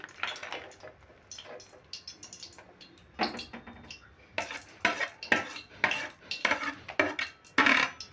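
Fried vegetables, cashews and raisins tipped into rice in a pan, with clattering spoon scrapes and pan knocks in irregular bursts that grow louder and more frequent toward the end.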